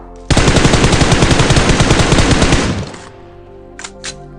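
Rapid automatic gunfire in a battle royale video game, a loud close burst of about two and a half seconds that cuts off, then two faint distant shots.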